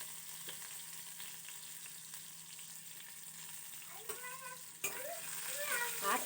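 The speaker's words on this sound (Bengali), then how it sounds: "চলো আমি এটা আগে ভেজে নিই" Potatoes frying in a pan make a quiet, steady sizzle with a few stirring scrapes, and voices come in faintly toward the end.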